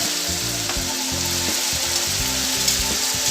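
Beef and bitter melon stir-fry with oyster sauce, Chinese black bean style, sizzling loudly and steadily in a hot pan, with repeated spatula scrapes and knocks underneath.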